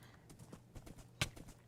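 Horse hooves clip-clop in a steady, soft rhythm inside a video game, fairly quiet, with a sharper louder impact near the end.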